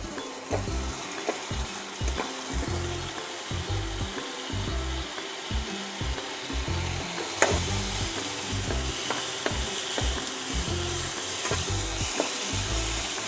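Spice masala for boal fish curry being fried and stirred in a pan with a little water, a constant loud sizzle with rhythmic scraping strokes, close up and growing brighter partway through.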